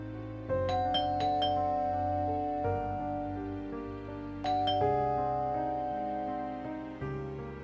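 Doorbell chime rung as a sound effect in a horror radio drama, a sustained ding-dong melody pressed repeatedly with ringing tones that overlap and decay, heard alone without talk.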